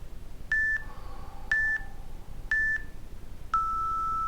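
A workout session timer sounds four evenly spaced electronic beeps about a second apart, the last one held longer and lower, clear over a quiet background.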